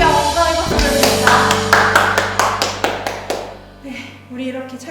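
At a children's Sunday school worship service, a group does a hip clap, slapping their bottoms in a quick rhythmic run of sharp claps over a sustained musical tone, with voices present.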